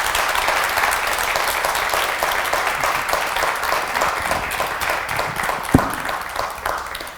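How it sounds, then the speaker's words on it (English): An audience at an evening solstice speaker series honouring MMIWG2S gives the speakers a sustained round of applause, with dense, steady clapping throughout and one sharper nearby clap toward the end. "Let's give our speakers a round of applause."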